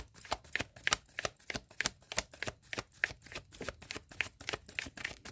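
Tarot cards being shuffled by hand, a steady run of crisp riffling bursts repeating about every half second, close and fairly quiet, with no talking.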